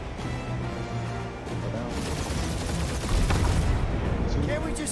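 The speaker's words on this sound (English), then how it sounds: "Just make sure you're shooting while you do it." Rapid, continuous gunfire from the Guardians of the Galaxy video game, a dense crackling barrage that grows louder toward the end, blended with in-game effects and background score.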